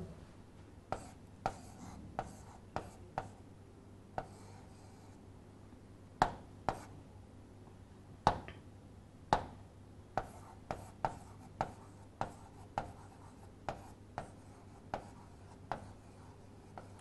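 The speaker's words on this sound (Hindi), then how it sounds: "मैं लिख देता हूं।" Chalk or marker writing on a classroom board during a Hindi biology lesson: a long run of sharp taps and short scratchy strokes in irregular rhythm, fairly close and clear, with no talking over it.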